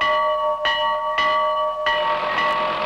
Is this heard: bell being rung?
yes